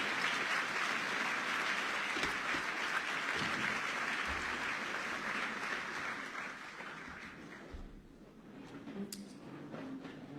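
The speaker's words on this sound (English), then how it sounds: "all the folks who are clapping, your hard work is not going to go in vain" An audience at a justice organization's annual fundraising gala applauds in a dense, sustained burst of clapping that tapers off after about eight seconds into quieter room noise.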